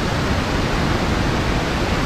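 Floodwater on the Virgin River rushing out through a regulated gate, a loud, unbroken broadband roar with no pauses and no voices.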